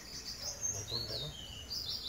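Bird calls from somewhere in the open countryside: faint high chirps and tweets drifting in and out over a low background hiss, fairly distant, with no talking.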